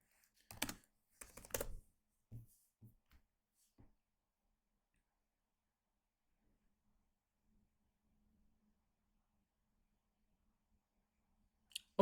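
Short bursts of typing on a computer keyboard while coding in C#, a few quick clusters of clicks at the start, then near silence, and a final sharp tap at the end.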